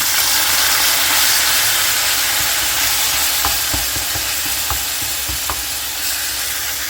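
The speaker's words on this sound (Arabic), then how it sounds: "صافي وغادي نخليوها هكا كيتقلى كيطيب" Chicken pieces fry in a pot with a steady, loud sizzle and hiss throughout, broken by a few soft clinks and knocks near the end.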